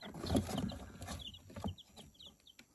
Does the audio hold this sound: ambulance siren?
no